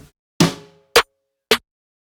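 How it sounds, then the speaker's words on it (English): Sampled snare drum hits from a drum sample pack, heard alone: one longer ringing hit with a decaying tail, then two short, sharp, bright cracks spaced about half a second apart, fairly loud and close. "snares"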